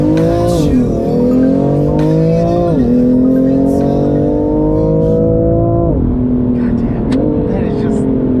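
BMW M3 CS driving hard and revving, its engine note rising and dropping through gear changes, loud and close throughout with a brief squeal-like edge.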